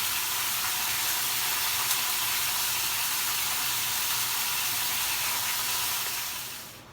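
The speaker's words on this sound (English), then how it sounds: "I'm putting everything inside the pot, and you could hear how it's frying up over here." Chicken for Jamaican brown stew frying in a pot with no water added, a steady dense hiss and sizzle that holds evenly for several seconds before fading out at the end, with no voices.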